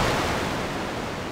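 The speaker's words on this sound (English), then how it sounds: "The ship splashed into the ocean." A cartoon ship splashing down into the ocean in a Lilo and Stitch read-along PC game, heard as a brief, loud broadband wash of water and surf that fills the whole moment with no voice.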